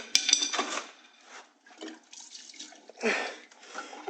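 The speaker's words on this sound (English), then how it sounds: "Final time pouring gas in here." Gasoline is poured and swirled inside a fuel filter can from an M35A2 truck, giving a series of close sloshing, splashing and trickling bursts with short pauses between them.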